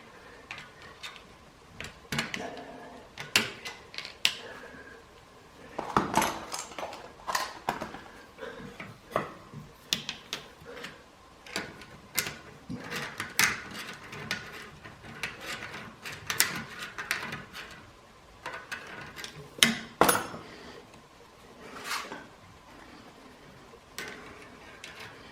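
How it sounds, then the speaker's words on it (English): Metal clicks and light ticking come from an engine valve being spun off its valve guide on a 1944 Ford 2N tractor, with irregular close taps and scrapes spread throughout. "Now I'm just spinning it off the valve guide."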